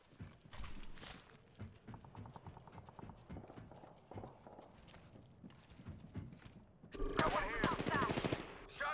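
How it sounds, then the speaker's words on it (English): Gunshots in a video game come in quick, sharp bursts alongside rhythmic clip-clop-like thuds, and a louder, denser volley erupts near the end. "Shots fired and they're hitting me."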